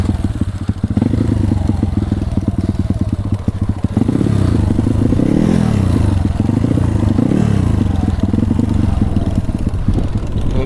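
A motorcycle rides loud and close along a rough, extreme rural trail in Bangkala, Jeneponto, its engine droning continuously with rattling clatter and scraping from the bumpy ground throughout.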